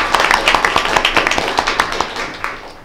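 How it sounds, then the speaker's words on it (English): A small audience at a school board meeting gives students a brief round of clapping, individual claps clearly separate and close, tapering off within a few seconds. "Let's give them a little round of applause."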